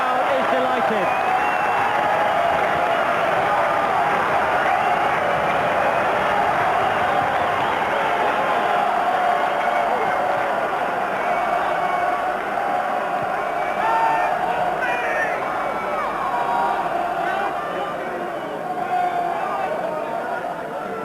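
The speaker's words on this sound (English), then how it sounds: "And the Kingsholm crowd is delighted." Rugby crowd at Kingsholm cheering a Gloucester try in a 1993 tens tournament, a sustained wide roar of cheers and applause under a commentator's talk.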